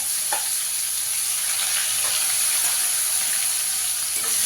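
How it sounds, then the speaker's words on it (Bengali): Grated onion fries in hot oil in a pan, a steady, dense sizzle with constant hiss throughout and a few faint stirring scrapes, no voices. "পেঁয়াজটাকে একটু লাল করে ভেজে নেব"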